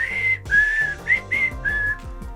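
A clear, close whistled melody from a film score, several sustained notes with small slides between them, solo and unaccompanied.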